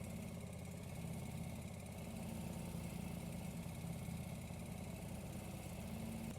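A garden tractor with its blade lowered for tilling soil runs at a steady, even drone, a continuous mid-low engine hum that holds constant throughout with no voices.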